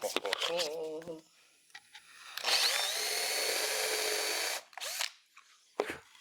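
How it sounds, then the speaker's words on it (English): Power drill countersinking screw holes in a wooden gift project, a steady sustained whir lasting about two seconds, close and loud, with brief bursts of drilling before and after and a voice speaking at the start. "we're going to countersink this project"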